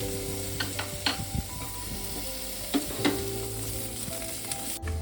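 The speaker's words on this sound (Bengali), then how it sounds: "এবার আমি ওর মধ্যে উচ্ছেটা একটু ভেজে তুলে নেব" Bitter gourd frying in oil in a kadai, a steady close sizzle with occasional soft clinks of a spatula stirring.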